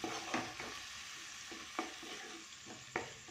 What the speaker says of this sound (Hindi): अब इसे हम अच्छे से मसाले को मिक्स करेंगे।